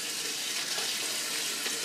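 Tap water running steadily and closely in a kitchen while a vegan chocolate panettone is prepared, a continuous even splashing rush with no talking.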